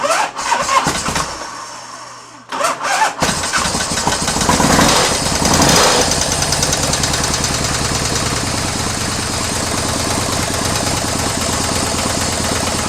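An old engine in a vehicle named Raven, choke on, cranks with a few sputters and a short gap, then catches and runs steadily, loud and close, with a rough knocking edge to the running.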